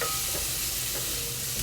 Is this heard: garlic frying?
yes